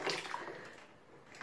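Shower water runs during a young child's bath, a soft, steady spray and splash heard close but quietly, with no speech.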